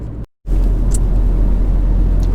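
Steady, loud road rumble from inside a moving car, captured on a GoPro HERO9 Black fitted with an external RØDE VideoMicro; the drone holds continuously after a brief dropout near the start.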